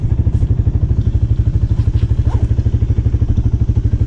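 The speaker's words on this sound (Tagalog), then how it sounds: "So yan ang motor natin, all stock po yan," A stock Rusi Flash 150X motorcycle engine while riding, a loud, steady, rapid low-pitched thrumming pulse with a rattling edge that stays even throughout.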